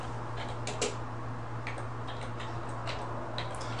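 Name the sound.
typing on computer keyboard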